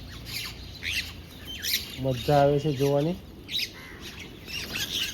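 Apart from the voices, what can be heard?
small sparrows and other birds calling from a drumstick tree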